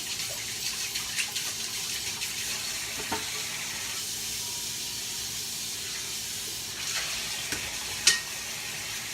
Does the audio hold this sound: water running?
yes